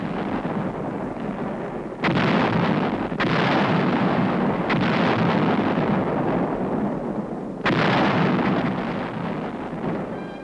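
155 mm artillery guns fire during the 1951 Korean War fighting near Wijeonbu, with repeated heavy booms rolling over a continuous roar of distant bombardment, loud and dense with no voices.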